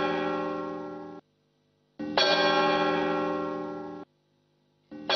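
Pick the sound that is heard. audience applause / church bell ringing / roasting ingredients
church bell ringing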